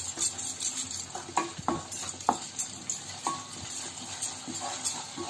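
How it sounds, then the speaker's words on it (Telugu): Chicken Manchurian stirred in a pan over high flame with green chilli sauce and vinegar, a metal spoon scraping and clinking against the pan in scattered knocks over a faint sizzle, close and moderately quiet. "green chilli sauce 1 spoon, vinegar 1 spoon వేసి బాగా మిక్స్ చేసుకుందాం"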